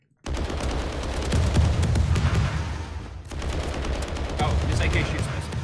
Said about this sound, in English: this AK shoots missiles, apparently